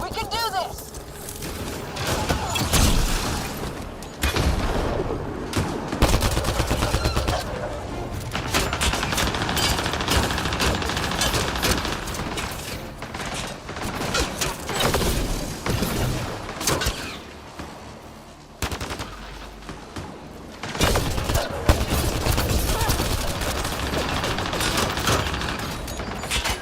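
Gunfire in the video game Mass Effect Andromeda, dense bursts of weapon shots and impacts going on throughout, loud and layered, with voices speaking among the shooting.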